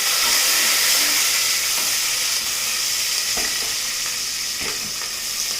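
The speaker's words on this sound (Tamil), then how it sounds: "கருவேப்பிலை கொஞ்சம் பொரிஞ்ச உடனே பச்சை மிளகாய் போட்டுக்கலாம்." Curry leaves and green chillies fry in hot oil for a chicken curry, producing a loud, dense, crackling sizzle with a few sharper spits as it carries on steadily.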